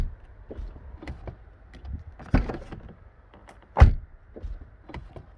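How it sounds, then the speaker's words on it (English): A couple of solid thuds from a Mercedes-Benz R230 SL car door shutting, separated by quieter handling noises and a faint mechanical hum. "the sound that the door makes when you close it"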